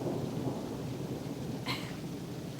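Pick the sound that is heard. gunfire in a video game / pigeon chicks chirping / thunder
thunder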